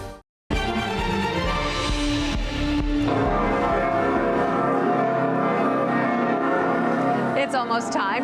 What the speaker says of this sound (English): the bells of the beloved cathedral rang out